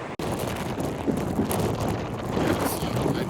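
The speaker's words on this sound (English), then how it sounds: "It's windy." Wind gusting across a beach at Port Aransas, Texas, buffeting the microphone in a steady, loud, broadband rush with slight surges, running continuously throughout.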